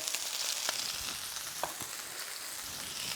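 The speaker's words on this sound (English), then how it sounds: "So we turn off the heat, and that will continue to sizzle away." Shallots frying in a pan, a bright, constant sizzle with a few small pops and crackles scattered through, close and fairly loud with no voices.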